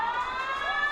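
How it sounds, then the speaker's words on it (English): A loud, sustained electronic game-ending siren at a rugby league stadium blares continuously, a steady tonal wail with no voices over it. "Siren will sound, or siren has sounded"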